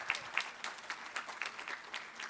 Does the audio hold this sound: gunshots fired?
no